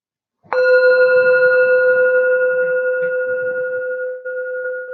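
A meditation bell is tapped once during an evening relaxation session and rings out with a clear, sustained tone that decays only slowly over several seconds, heard alone without voices.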